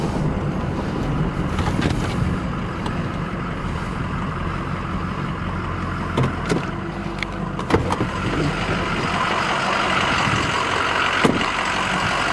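A Ford F350 crew cab 4x4 FX4 diesel long-bed pickup runs and drives, its steady engine drone and road rumble continuous and fairly loud throughout, with a few brief clicks and knocks over the top.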